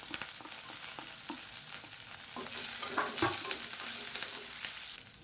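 Curry leaves and three finely chopped green chillies sizzle in hot oil, a quiet, steady frying hiss with small crackles and occasional stirring taps, no voices.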